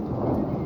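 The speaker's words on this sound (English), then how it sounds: "Still thundering, so" Heavy thunder during a thunderstorm rumbles low and continuous, a loud deep roll filling the short moment without voices.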